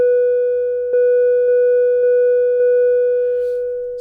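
A monophonic eurorack synthesizer oscillator holds one steady, buzzy tone with bright overtones, broken by soft clicks about every half second, loud and alone.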